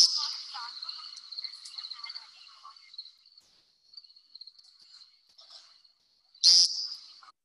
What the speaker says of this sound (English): They have a call that's called a peent